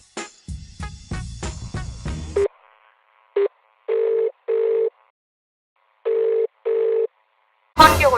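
An unanswered call to a switched-off phone: after a short burst of other sound, a series of flat electronic tones beeps in evenly spaced pairs, close and clear, before a sudden loud noise ends it.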